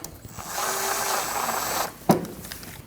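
A powered driver whirs for about a second and a half while tightening a mud flap screw on a 2012-2021 Nissan NV2500 5.6L V8 van, followed by a sharp click as it stops, heard close and alone.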